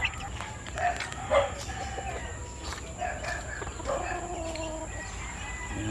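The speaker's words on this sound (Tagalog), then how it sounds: "Mga manok ko mga idol." Chickens cluck and a rooster crows at a moderate distance, several birds calling in irregular bursts over faint outdoor background noise.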